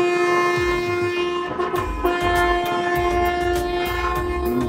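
A loud, sustained, droning horn-like tone sounds over low rumbling traffic noise, heard from the road during a motorbike ride between Cumilla and Dhaka.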